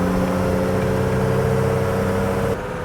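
A 75-year-old farm truck's engine labours steadily uphill after a downshift, a loud continuous drone heard from inside the cab with no talk over it, dropping slightly near the end.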